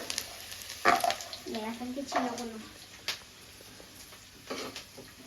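Bitter gourd and onion sizzling in a kadai while being stirred, a soft steady fry with a few sharper scraping knocks, and a voice talking over it.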